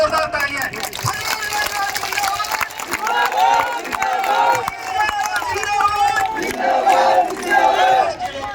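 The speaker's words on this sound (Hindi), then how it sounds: "एक बार जोरदार तालियां" A large crowd at an outdoor political rally for the Rashtriya Loktantrik Party in Osian claps and cheers, a dense, steady roar of applause and shouting voices sustained throughout without pause.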